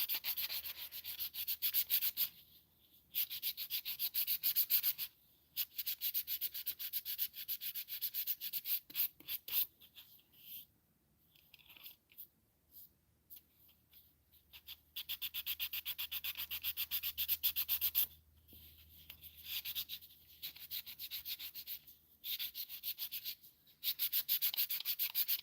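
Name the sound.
burnishing walnut wooden tree earrings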